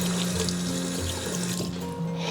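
Tap water runs steadily over a piece of beef chuck being rinsed in a kitchen sink, a continuous close splashing and trickling stream with no talk.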